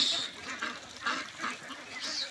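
Young ducks on a farm give a run of close, nasal quacks in short bursts over a low background, with no talking.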